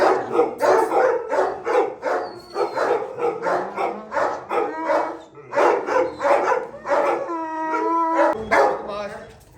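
Several bully dogs, including a pregnant female, bark in rapid, overlapping bursts nearby, one breaking into a drawn-out howl, with people talking underneath.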